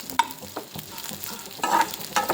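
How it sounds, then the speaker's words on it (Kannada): Cumin, cloves, cinnamon and whole spices fry in hot oil in a pan for North Karnataka mutton gravy, with soft crackling sizzle and scattered scraping stirs, a few louder clinks near the start and a busier patch toward the end. "ಇಷ್ಟೆಲ್ಲ ಹಾಕ್ಕೊಂಡು ಚಲೋ ಫ್ರೈ ಮಾಡಬೇಕು"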